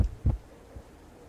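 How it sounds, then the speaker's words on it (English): A heartbeat effect from the survival game Cataclysm: Dark Days Ahead: two deep, soft low thumps, a strong one near the start and a fainter one shortly after, alone with no talk. "Let's get that heartbeat back."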